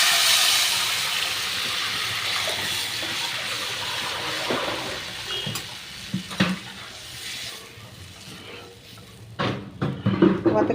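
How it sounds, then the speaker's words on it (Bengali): Lentils poured into a hot pan while cooking mung dal: a loud steady sizzle and hiss, easing as the oil settles, with a few scraping stirs and clinks toward the end. "এবার আমি ডালটাকে ঢেলে দিচ্ছি।"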